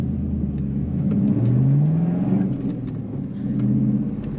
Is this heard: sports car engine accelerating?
yes